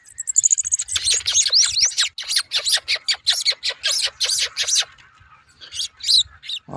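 A bananaquit sings up close, a loud run of rapid high buzzy chips and sharp twitters that stops briefly and then resumes with a few more bright notes.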